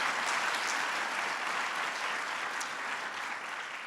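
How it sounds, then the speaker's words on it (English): Audience at the Presidential Summit on Entrepreneurship applauds the Secretaries of Commerce and State, a steady, even wash of many hands clapping that holds throughout and fades slightly toward the end. "So please give them a big round of applause."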